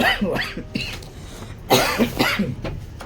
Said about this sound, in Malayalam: ചുമയ്ക്കൊക്കെ ചെയ്യും തൊണ്ടടഞ്ഞൊക്കെ ഉണ്ട്